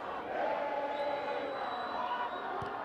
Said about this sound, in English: As we hear the crowd finding their voice.